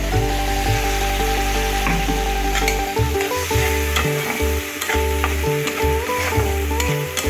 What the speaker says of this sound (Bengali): এই সময় আমি বাটা মশলাটা দিয়ে দিই।